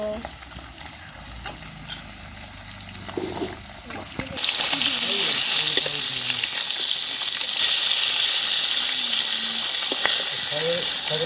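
Oily silver fish fry in hot oil, a quiet stretch giving way to a loud, steady, bright sizzle that holds for the remaining seconds, with a voice speaking briefly near the start.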